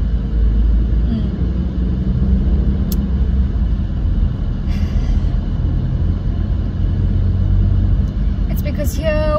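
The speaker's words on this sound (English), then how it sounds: "here we have to deal with cane trucks and sand trucks, just very trucky trucks on the road today" Heavy cane trucks and sand trucks pass on a country road, a steady loud engine and tyre rumble with low droning throughout, while a person talks over it.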